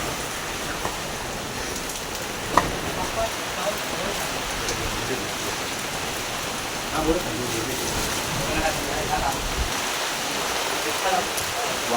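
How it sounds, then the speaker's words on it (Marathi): Heavy rain pours steadily near a prawn and crab fishing spot in coastal Maharashtra, a dense continuous hiss with scattered drop impacts and a few sharper knocks, while people talk faintly underneath. "पाऊस जोराचा लागलो हा."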